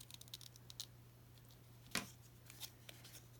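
Scissors snip around the edge of a paper template piece in quick, faint, close clicks, with one sharper louder cut in the middle, over a low steady hum.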